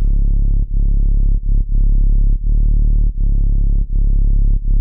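A distorted saw bass patch with a sine sub, chorus and filter plays a series of long sustained low notes, each separated by a brief gap, loud and thick and alone.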